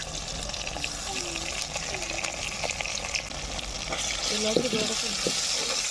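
Ginger-garlic paste sizzles with tomatoes in a pan for a country chicken curry, a steady hiss of frying with scraping stirring strokes that grow busier toward the end.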